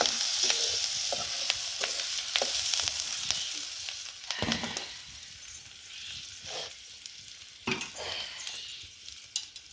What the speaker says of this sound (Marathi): चांगला खमंग परतून घ्यावं लागत असेल